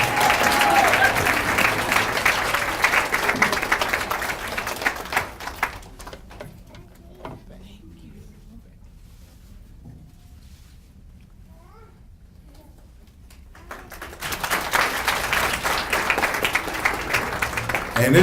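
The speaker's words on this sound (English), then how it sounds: "Come on, keep on clapping." Applause from a youth council graduation ceremony audience, loud and steady at first, dying away into a quiet stretch with faint voices and children, then swelling back into full clapping.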